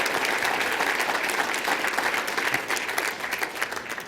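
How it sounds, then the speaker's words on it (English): A round of applause from an audience at the New York Athletic Club during the AAU Sullivan Award event, dense steady clapping from many hands, loud and continuous across the whole stretch. "so just round of applause to the New York Athletic Club for having us back here"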